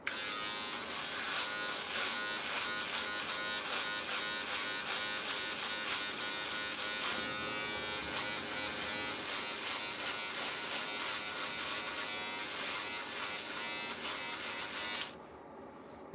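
An electric razor shaves a face, a loud steady close buzz with rasping texture as it moves over stubble, running for about fifteen seconds before abruptly cutting off, with no one speaking.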